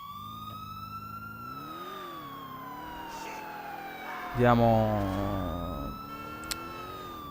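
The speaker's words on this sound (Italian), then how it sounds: "Accendiamo le sirene." Police car siren wailing in GTA 4 with the LCPD:FR mod, a steady rising and falling tone throughout with a louder engine or crash burst midway; someone speaks briefly over it.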